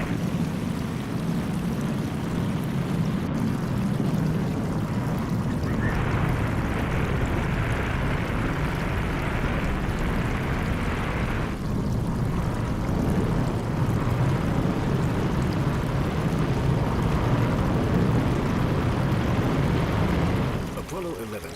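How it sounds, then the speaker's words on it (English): A Saturn V rocket lifts off carrying Apollo 11 in July 1969, a continuous, heavy, rumbling roar heard from a distance, thick with low-end power and shifting slightly in tone before cutting off near the end. "The start of a Saturn V can be heard further away than any other man-made noise except for that of an atomic bomb."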